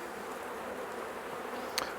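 Honey bees buzz around a poly hive in a steady, soft, continuous drone with no voices.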